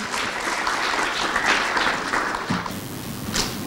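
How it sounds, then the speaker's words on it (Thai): An audience at a science book launch and panel discussion applauds to welcome a moderator, a steady broadband clapping that fills the room for several seconds and tapers near the end. "ขอเสียงปรบมือต้อนรับด้วยนะคะ"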